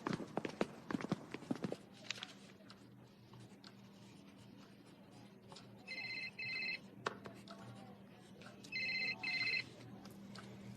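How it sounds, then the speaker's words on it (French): A telephone rings in two short double bursts, close and fairly loud, in an indoor scene of a French-dubbed cartoon, with scattered knocks and clatter before it. "C'est le téléphone de qui?"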